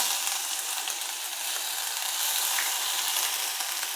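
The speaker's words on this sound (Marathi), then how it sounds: "तेल तापलेलं आहे जिरं घालू आपण फोडणीला आणि हे आलं मिरचीचा ठेचा" Cumin seeds and a crushed ginger-chili paste sizzle in hot peanut oil for a fasting-day potato dish. A steady, dense frying hiss runs throughout with no talk.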